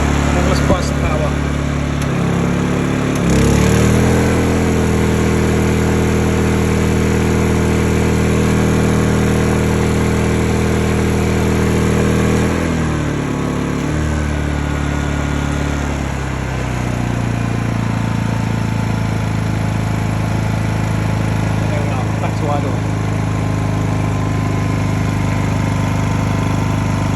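Honda EU2000i generator with its auto throttle switched off, running loud and close with a steady droning hum, its pitch shifting as the engine speed changes, while a voice talks over it.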